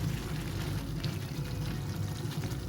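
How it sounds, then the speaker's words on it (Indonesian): Water pours steadily into a pan of free-range chicken curry with kecombrang flower, a continuous close splashing and gurgling stream with no voices. "Tuang air ya, agar ayamnya cepat empuk."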